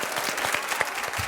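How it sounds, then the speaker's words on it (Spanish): A studio audience applauds to welcome a guest on a Spanish television talk show, giving a brief burst of steady, close, dense clapping. "Un fuerte aplauso para recibir a alguien que yo admiro mucho"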